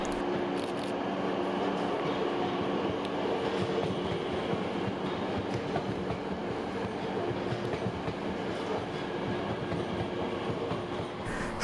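A train pulls away from a platform at Gößnitz station, a steady rumble of rolling wheels and rail clatter that holds at an even level throughout, with no voices.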